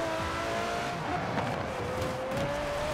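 Aston Martin Vulcan race car driven in Forza Horizon 4, a steady high engine whine with a slowly rising pitch and a faint tire squeal, loud and continuous with no talk.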